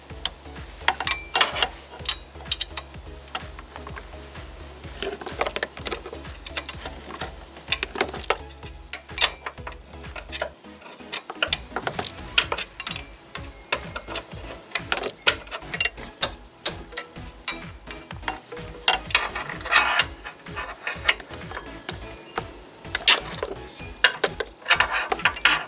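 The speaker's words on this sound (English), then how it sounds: "So we will use a 10mm offset box wrench to do that." A 10mm offset box wrench works bolts loose on a Kia Forte during a water pump replacement, producing a long run of close, rapid ratcheting clicks with short pauses and no talk.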